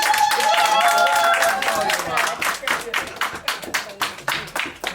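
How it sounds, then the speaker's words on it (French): Applause and clapping from a crowd at a customary wedding, dense and sustained at first, then thinning into separate, uneven claps toward the end. "Et applaudissez plus fort."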